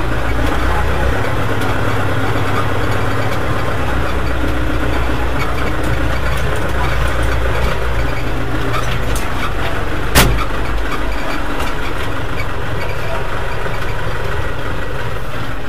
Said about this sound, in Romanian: Și o agăți cu tractorul ăsta